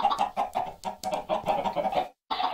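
Chickens clucking in Minecraft, a rapid run of short, close clucks in a steady choppy rhythm that breaks off briefly before resuming, with no talking over them.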